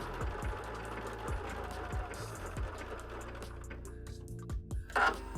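A sewing machine fitted with a Topstitch 90 needle runs a blanket stitch along the curve of a backpack pocket, giving a steady mechanical chatter with regular thumps about every half second, then a brief louder clatter near the end.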